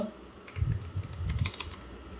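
Typing on a computer keyboard, a quick cluster of light clicky keystrokes over a couple of seconds, close and moderately soft against a low background hum, with no speech.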